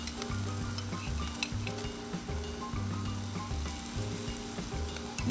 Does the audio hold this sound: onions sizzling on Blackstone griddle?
yes